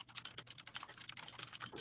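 Rapid clicking of keys on a computer keyboard, typed in quick irregular bursts throughout, close and fairly quiet with no voices.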